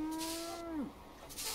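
A single cow moos in the Euro Truck Simulator game with the ProMods map, a long low call that holds steady and then bends downward before fading, quiet and alone.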